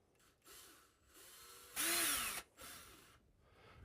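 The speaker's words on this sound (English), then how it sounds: "I'm going to take my other drill" Power drill boring a small pilot hole while building an enclosure: a few short close whirring bursts, with a louder high-pitched spin in the middle, alone with no talk.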